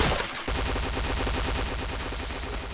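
Rapid, continuous automatic gunfire from a shooting video game, a dense rattling burst of shots running nearly the whole time at steady loudness after a brief quieter start, with no talk over it.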